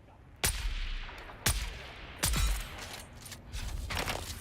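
Sniper gunfire in the video game Dune: Awakening: three sharp, loud shots spaced about a second apart, each with a booming tail, followed by fainter crackling shots amid background game ambience.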